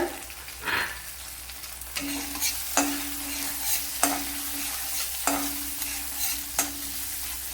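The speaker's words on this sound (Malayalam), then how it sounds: "അതുപോലെ രണ്ട് പച്ചമുളക് എടുത്തിട്ടുണ്ട് അത് ഇട്ട് കൊടുക്ക" Two green chillies frying in hot oil in a pan for a Kerala drumstick dish, with steady sizzling and a series of sharp scraping stirs against the pan, close and clear with no talking.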